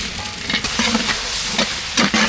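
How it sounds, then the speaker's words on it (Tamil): Onions, green chilies and whole spices such as cinnamon sauté in a pan, with a steady frying sizzle and repeated scrapes of a stirring spoon close by. "வெங்காயம், பச்சை மிளகாய், பட்டை வகையெல்லாம் நல்லா வதங்கிடுச்சு"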